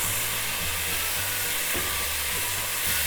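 Washed rice is stirred in a hot pan with peas, giving a dense, steady hiss and sizzle with faint scraping, close and continuous with no voices.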